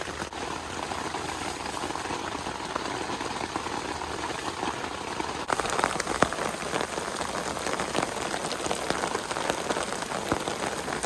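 Heavy rain from the remnants of Hurricane Beryl drums on a camping tent in a steady, dense, continuous patter that thickens halfway through, with no voices.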